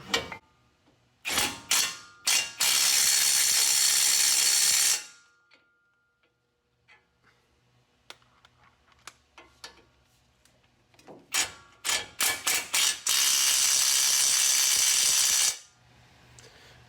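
Ratchet tightening the front brake caliper bolts on a 2004–2015 Nissan Titan during a pad and rotor job: close, loud bursts of rapid clicking in two long runs, separated by a quieter stretch of faint tool handling.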